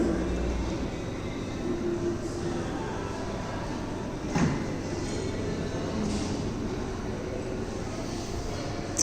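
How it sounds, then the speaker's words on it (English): A subway train runs below a station building, a low, steady rumble that carries on for about nine seconds, with a brief whoosh midway and faint background noise. "You can still hear the subway down below."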